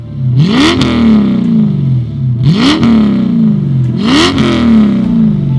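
A TVR 420 SEAC with gas-flowed heads, carbon fibre plenum and large-bore sports exhaust revs three times, each blip rising sharply then settling back to idle, loud and close with no talking.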